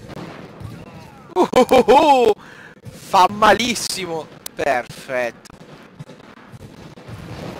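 Sharp gunshots from The Division crack out in short bursts over a steady background hum, with someone talking excitedly in between.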